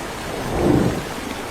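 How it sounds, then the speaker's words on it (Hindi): Rain pours steadily over a jungle while thunder rolls up in a soft, swelling rumble in the middle, then fades back into the constant wash of falling rain. "हम बारिश में भीग रहे हैं"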